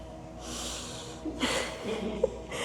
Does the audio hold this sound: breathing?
yes